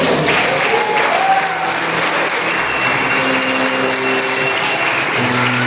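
A church congregation applauds after a prayer, a broad, steady wash of clapping that stays even and fairly loud throughout, with faint sustained tones from music or voices beneath.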